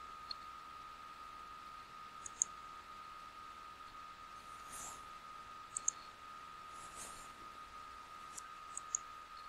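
A computer mouse clicks on an on-screen button: a few faint, sharp single clicks spaced several seconds apart over a quiet, hissy background.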